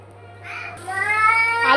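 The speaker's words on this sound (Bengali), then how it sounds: "বাচ্চার কান্নার জ্বালায় আমি আসলে সব কিছু এলোমেলো করে ফেলতেছি" A child's cry rises close and loud in a short, wavering wail that grows over about a second, with a steady low hum behind it.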